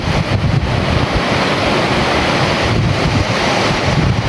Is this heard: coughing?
no